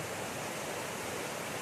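A small river along the Little River Trail rushes over rapids in a steady, even wash of water noise, fairly soft and with no voices.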